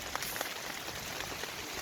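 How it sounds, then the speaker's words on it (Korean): Steady rain falls over an open-field pepper crop during a prolonged monsoon spell, a faint, even hiss of drops on surfaces with a few slightly louder patters, no voices. "계속 비가 오고"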